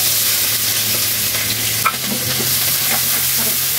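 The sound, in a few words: onions frying and sizzling in oil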